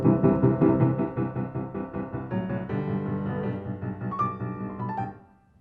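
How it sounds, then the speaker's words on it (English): Solo piano plays the opening theme of the first movement of Beethoven's Waldstein Sonata, with rapid repeated pulsing chords in the low-middle register, steady and driving, then a brief higher flourish before it fades out. "I will play to you the first movement of Beethoven's Waldstein Sonata"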